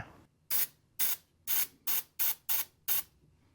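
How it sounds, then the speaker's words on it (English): Seven short, sharp hisses of PB Blaster penetrating oil sprayed onto a tight bolt during Lexus RX330 AC work, evenly spaced bursts about half a second apart, close to the microphone with silence between. "I'm going to spray some PB Blaster on that."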